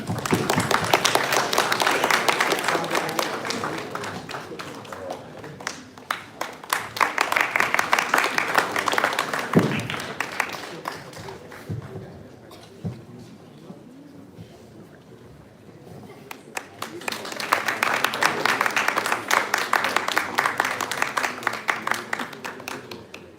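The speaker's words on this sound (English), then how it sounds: "Let's express our appreciation with a big round of applause." Audience applause at a marketing and HR panel event, broad dense clapping rising in waves, fading to a quieter patch midway, then swelling again toward the end.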